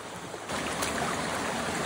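A favorite stretch of creek flows steadily, with rushing water close by that is softer for the first half-second and then fills in as a continuous, fairly loud wash with no one talking.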